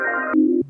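Guitar tone processed by the sample-and-hold effect of a Spatial Delivery pedal, stepping abruptly through three steady pitched tones in under a second, alien and glitchy, with no voices.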